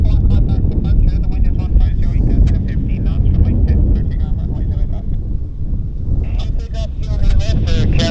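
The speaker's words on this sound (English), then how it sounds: "here is our Ottawa bound Dreamliner, and they've been cleared to taxi into position, and they're cleared for takeoff as well" An Air Canada Boeing 787 Dreamliner bound for Ottawa takes off at Vancouver airport, a steady, loud broadband engine roar with wind buffeting, while a voice talks over it throughout.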